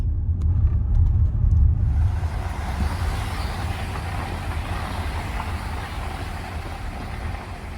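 A car's engine rumbles steadily as it drives into the guest parking behind Grantley Hall hotel, a continuous low hum that stays close throughout with brief faint clicks at the start.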